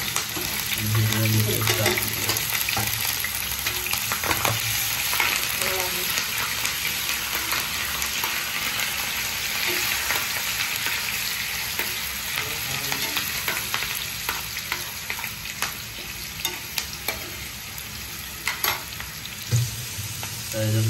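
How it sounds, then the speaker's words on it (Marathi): Chopped onion, curry leaves and four pieces of green chilli fry in about four spoons of hot oil for a crab masala, giving a steady, close sizzle with occasional stirring scrapes throughout. "4 चमचे तेल टाकलेलं आहे, आणि त्याच्यामध्ये कांदा, कढीपत्ता, हिरव्या मिरचीचे 4 तुकडे."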